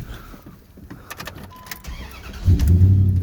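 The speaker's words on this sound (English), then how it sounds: "Started right up. Motor sounds good and quiet." A 2003 Dodge Dakota pickup truck starts up: faint clicks and cranking, then the engine catches and settles into a loud, steady low idle.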